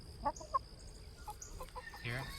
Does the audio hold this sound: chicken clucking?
yes